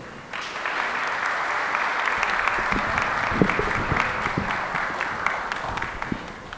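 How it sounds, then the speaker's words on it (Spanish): Strong applause from an audience welcoming the president of Peru at a fire station in Breña, a dense steady clapping that holds close and loud for several seconds. "recibimos con un fuerte aplauso a nuestro presidente de la República, don Pedro Pablo Kuczynski."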